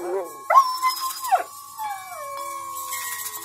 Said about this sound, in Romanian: Dacă te latră câinele, înseamnă că ți simte frica.